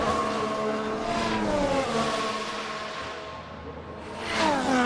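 Formula 1 race cars in the F1 Manager 2024 video game, engines whining and shifting pitch as the cars pass close by and slow into the pits at the Spanish Grand Prix.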